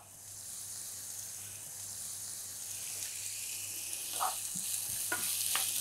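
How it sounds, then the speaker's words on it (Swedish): Chopped vegetables sizzling in olive oil in a hot pan, a steady close hiss of frying that builds slightly, with a few soft clinks of stirring toward the end. "Varm panna och olivolja i. Så lägger jag i grönsaker."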